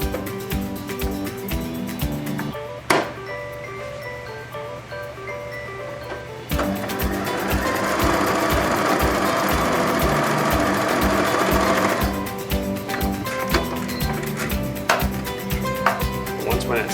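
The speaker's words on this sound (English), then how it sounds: "For today, I'm just going to machine stitch it." A sewing machine stitches puppet arms in quick rapid runs of needle clatter, with a burst of faster continuous stitching in the middle, separated by brief pauses and small handling clicks.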